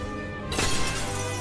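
Glass spikes shattering in the Medievil video game, a sudden bright crash about halfway through that rings out briefly over a steady low game soundtrack.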